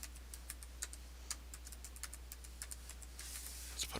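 Quick, light key clicks on a computer keyboard as a password is typed into an account sign-up form, a faint, steady run of taps over low background hum.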